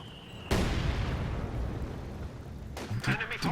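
Grenades explode in Company of Heroes 2, a World War II strategy game: a sudden loud blast hits, then a long rumbling decay, and a second flurry of sharp bursts crackles near the end.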